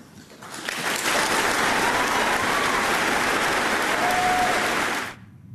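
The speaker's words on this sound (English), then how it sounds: "Raucous applause." A college crowd in rural Kansas erupts in raucous applause that swells within a second, holds loud and dense with some cheering, then cuts off abruptly.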